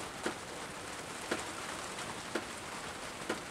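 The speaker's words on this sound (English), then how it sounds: "Oh, it's raining, ain't it?" Light rain falling outdoors where a possum shelters in garbage, a soft steady patter with a few louder drops landing at roughly one-second intervals, faint and with no talking.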